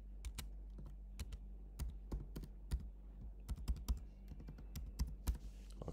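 Fingers tap out a password on a computer keyboard in a steady burst of close, crisp keystrokes with short pauses, quiet and with no one speaking.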